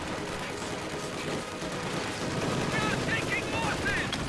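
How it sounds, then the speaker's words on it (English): DShK heavy machine gun firing bursts in a competitive video game match, its rattling fire blending into a dense, continuous wash of battlefield gunfire that stays loud throughout. "DSHK is getting some bursts in though."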